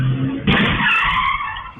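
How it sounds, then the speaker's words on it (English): A car speeds off with its tires skidding and squealing, a loud, sustained screech that starts abruptly and runs on alone close by. "To escape, the dad sped off in his car."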